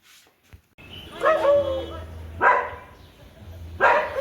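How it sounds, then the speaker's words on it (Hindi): A dog barks in short, loud bursts at close range, a few times spaced apart, reacting to a toy inside a car; someone speaks between and over the barks. "क्यों भौंक रहे हो?"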